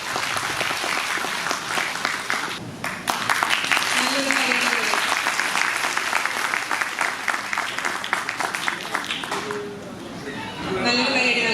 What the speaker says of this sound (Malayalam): വലിയൊരു കയ്യടി നൽകാം